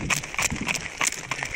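An unshod horse trots or runs on open ground outdoors, its hooves striking in quick, uneven thuds at close range, a short burst of clip-clop beats.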